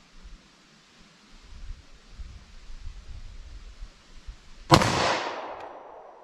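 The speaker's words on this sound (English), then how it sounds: "I'll try a headshot with our 9mm." A single sharp 9mm pistol shot fired with Speer Gold Dot ammunition cracks loud and close near the end, its sound decaying over about a second after a stretch of faint rustling background.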